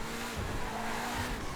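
Drift car tires squealing in GTA FiveM, a sustained loud screech with engine roar running continuously throughout.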